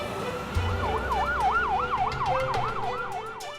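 A wailing ambulance siren sweeps up and down in steady cycles, loud and continuous, with a vehicle rumbling underneath.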